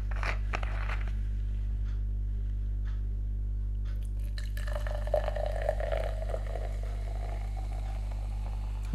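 Juice poured into an old mug indoors, a soft gurgling trickle of liquid in the second half over a constant low electrical hum, preceded by a few light clicks and handling sounds.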